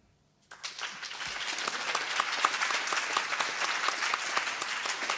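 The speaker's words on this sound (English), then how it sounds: "Karabo Kholeng, stop clapping, stop." An audience bursts into steady applause after a brief quiet moment, many hands clapping continuously and fairly loud throughout.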